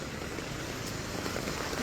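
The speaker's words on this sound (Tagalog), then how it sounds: "Yan, maulan dito guys." Heavy rain pours steadily at a flooded site in Iloilo, a dense, even hiss close by that fills the short moment with no breaks.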